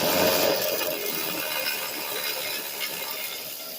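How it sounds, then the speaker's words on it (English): An electric ratchet wrench with a 10mm socket on a 12-inch extension spins out bolts from a plate on a Ford F-150 Triton engine, giving a loud, steady mechanical whir and rattle close by. "and an electric ratchet wrench because it's faster"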